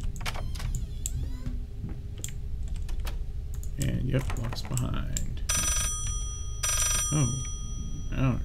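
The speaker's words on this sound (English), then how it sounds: "It's a very loud phone." A very loud telephone rings in the Layers of Fear horror video game, coming in repeated bursts over keyboard typing and clicks, with someone talking in between.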